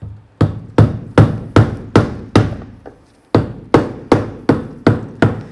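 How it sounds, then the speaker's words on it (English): A punch struck with a rubber mallet taps a fuel pump lock ring on a 1994-2002 Dodge RAM 1500, producing a loud, close series of about a dozen evenly spaced dull knocks with one brief pause midway. "we're going to take our little punch here and a nice rubber mallet"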